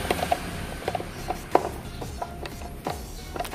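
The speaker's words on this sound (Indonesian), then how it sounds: "Setelah masuk kita kencangkan lagi." A neutral wire terminal is tightened inside an electrical distribution panel, giving soft, irregular metallic clicks and ratcheting scrapes from a close, quiet screwdriver, with no talking.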